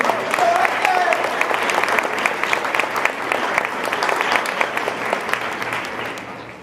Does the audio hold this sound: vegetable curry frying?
no